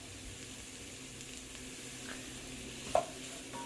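Chopped garlic, pepper and other vegetables sweat in a pot for a crawfish, shrimp, chicken and andouille gumbo, a soft steady hiss at low level with one brief clink of a utensil near the end.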